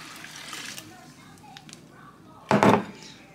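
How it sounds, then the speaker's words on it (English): Liquid is poured into a crock pot in one short, splashy gush near the end, after a stretch of quiet kitchen noise with faint background voices. "I'm gonna pour this into the crock pot."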